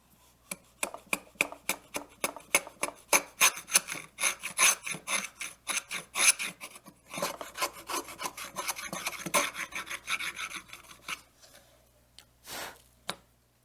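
A Walke Moore 3500 router plane scrapes across a wooden tenon in a rapid series of short, rasping strokes, close and distinct, with a brief pause before a final stroke.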